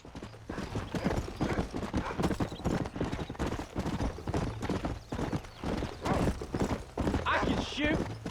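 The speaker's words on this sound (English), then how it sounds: "Mount your horse." Horse hooves clip-clop in the Red Dead Redemption video game, a fast, rhythmic run of close hoofbeats sustained throughout, with a brief whinny near the end.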